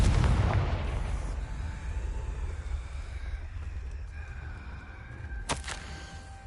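The Confringo explosive spell goes off in the Hogwarts Legacy video game: a heavy boom opens and rumbles away, then a sharp, bright burst cracks near the end over faint ambient tones.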